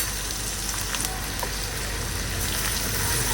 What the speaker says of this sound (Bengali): এইভাবে করে নাড়াচাড়া করে করলাটাকে না ভাজা ভাজা করে নিলাম